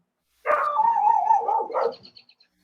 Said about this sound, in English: Is that you barking the question?